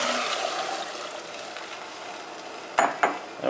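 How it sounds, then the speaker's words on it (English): Sauteed vegetables stirred in a pot on the stove for a Yemeni lamb haneeth, a steady broad sizzle under soft scraping, with two sharper utensil knocks near the end; no talking. "Stir this around."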